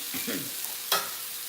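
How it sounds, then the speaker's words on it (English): Mushrooms hit a hot pan and sizzle close up, with a rustle of stirring followed by a sharp burst of frying, heard alone. "now we're just gonna throw the mushrooms in there"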